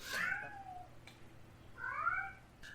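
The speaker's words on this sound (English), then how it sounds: "Umbra, my cat's going crazy." A cat meows twice, two drawn-out, fairly loud cries separated by a short pause, with no voices around them.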